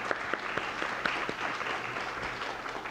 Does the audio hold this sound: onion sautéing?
no